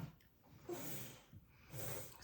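Faint, close breathy sniffs from a child smelling food topped with kimchi, coming in a few short bursts with quiet gaps between.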